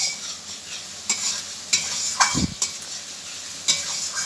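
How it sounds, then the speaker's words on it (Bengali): Spices frying in a pan while being stirred, a quiet sizzle broken by several sharp scraping strokes of a spoon against the pan, close up with no voices. "তারপরে মশলাগুলোকে অনেকক্ষণ কষে নিচ্ছি"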